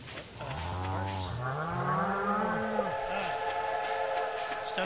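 A train passing in a farming video game, with sustained whistle-like horn tones rising and falling over a steady rumble, fairly loud and continuous for several seconds with no talk.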